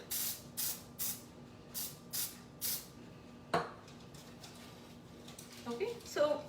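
Cooking spray squirted into a cake pan in a home kitchen: six short hissing bursts at an even rhythm, close and fairly loud, then a faint clatter and some handling noise, with no talking during the bursts.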